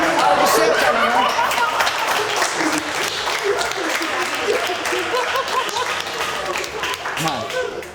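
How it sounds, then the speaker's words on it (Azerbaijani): A comedy show audience applauds Kənan with loud, sustained clapping mixed with chatter and some laughter, the applause easing slightly toward the end. "Alqışlayaq Kənanı"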